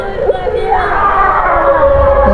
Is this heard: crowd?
yes